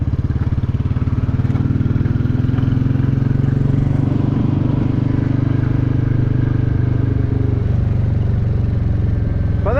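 A Royal Enfield Classic 350 motorcycle is ridden on a commute home, its single-cylinder engine thumping in a steady, loud, close drone under constant wind rush, with a slight shift in pitch near the end.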